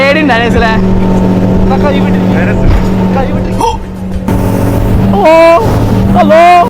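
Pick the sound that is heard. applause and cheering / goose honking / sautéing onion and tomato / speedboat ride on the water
speedboat ride on the water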